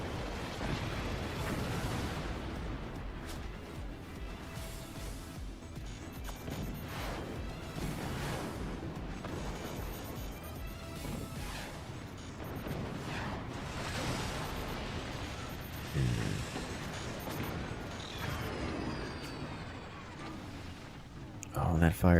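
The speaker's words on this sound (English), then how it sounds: "the French team is having to use cannons to deflect the howitzers" Cannons and howitzers fire again and again in a weapons-battle video game during a team tournament, a steady run of booms and blasts heard at low level under constant commentary.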